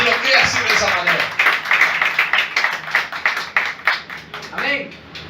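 A church congregation clapping hands during a sermon, many hands beating a quick, fairly steady rhythm under the loud voice of a preacher talking over them.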